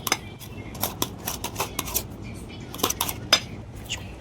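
A knife chops vegetables such as tomato on a board in a home kitchen. Crisp, rhythmic strokes click at an uneven pace, and some of them clink sharply against the board.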